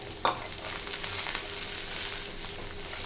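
Dried red chillies, green chillies and peanuts fry in hot oil for a spicy Bengali parwal bharta, making a continuous close crackling sizzle with a sharp tap near the start and stirring throughout.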